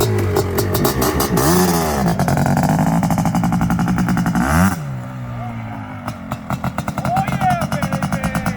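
A restored Suzuki Quadzilla 500 ATV engine, rejetted after complete engine failure, revs loudly nearby in repeated rising and falling bursts, then settles to a rough, pulsing idle.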